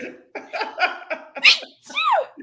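A person imitating a sneeze vocally, sounding out a drawn-out achoo as one close, loud burst, with laughing and chatter around it.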